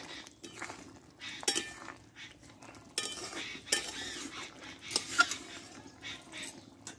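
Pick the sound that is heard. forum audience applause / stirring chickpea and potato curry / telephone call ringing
stirring chickpea and potato curry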